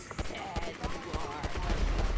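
Minigun fire in GTA on PC, heard as a busy stream of rapid shots and impacts that builds toward the end, mixed with other game noise.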